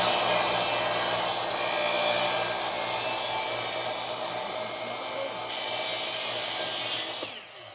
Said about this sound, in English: Now let's cut it to length and install it on our hood.